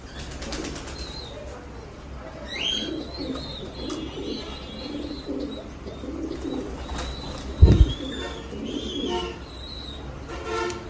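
Fancy pigeons coo in a loft over a steady background hum, with a few wing flaps and a brief louder thump midway; no one speaks.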